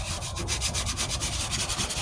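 Hand sanding of Bondo body filler on the passenger-side wheel arch of a 1998 Ford Ranger, a steady rhythmic rasp of back-and-forth strokes, close and continuous, with no voices.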